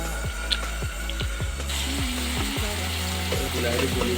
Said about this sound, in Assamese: বিলাহীখিনি লৰাই সিজিবলৈ দিব লাগিব বিলাহীখিনি সিজিবৰ কাৰণে ঢাকোন দি দিছোঁ